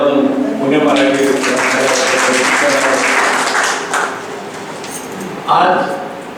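A hall audience at a Marathi literary event applauds in a sustained, dense wash of clapping that swells, tapers, then briefly surges again near the end, with a voice faintly present underneath.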